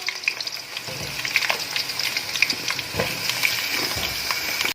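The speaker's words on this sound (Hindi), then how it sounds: "पहले ऑयल हमने गरम कर लिया था पहले, और इसके अंदर 5 से 10 मिनट तक हम इसको फ्राई करेंगे आलू को" Potato pieces deep frying in hot oil for aloo gobhi, a dense, continuous close-up sizzle and bubbling hiss with occasional stirring knocks, steady throughout and free of speech.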